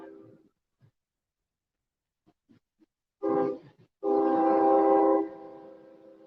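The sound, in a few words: train passing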